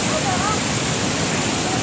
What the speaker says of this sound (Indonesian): Kami berada di air terjun 7 bidadari